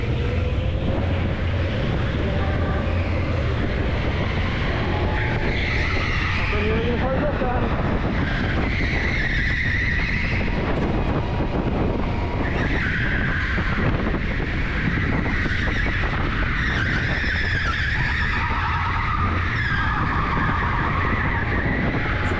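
Electric go-karts on an indoor track at TeamSport Preston run continuously, with repeated tyre skids and squeals close by, steady rushing noise and some voices mixed in.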